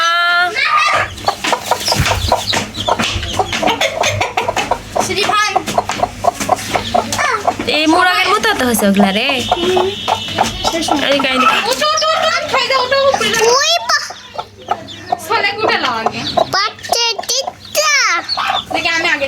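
Hens and their chicks cluck and peep close by in a backyard flock, with repeated bursts of clucking mixed with people and children talking over them throughout.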